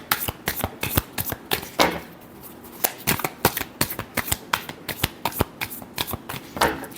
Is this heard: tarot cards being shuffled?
yes